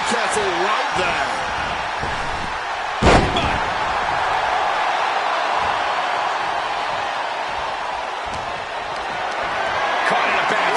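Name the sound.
wrestler slammed to the mat in WWE 2K26 video game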